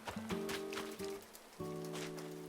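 Soft, steady rainfall patters in the Animal Crossing New Horizons video game, a faint hiss of drops beneath sustained musical tones.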